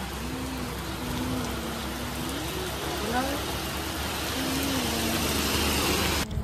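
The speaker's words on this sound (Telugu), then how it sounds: "వర్షం అయితే స్టార్ట్ అయిపోయింది." Rain falls in a steady, even hiss during a trip near the Godavari at Dindi. A faint voice sounds underneath.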